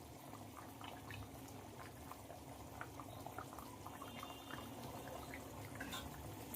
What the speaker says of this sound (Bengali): তো মাছ দেওয়ার পরে ঝোল কিন্তু খুব ভালোভাবে ফুটে গেছে।